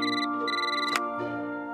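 An electronic telephone rings in two bright trilling bursts separated by a short gap, with a cartoon-style shop phone sounding clear and close, no voices over it.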